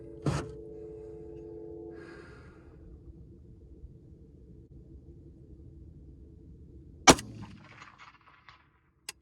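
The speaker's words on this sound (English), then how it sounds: "Let's see if we can do a follow-up shot at 340 for consistency." A Zastava PAP M77-PS rifle fires a handloaded round at a steel plate 340 away: one sharp, loud crack near the start, then a few seconds of quiet before a second bright metallic impact with a ringing tail.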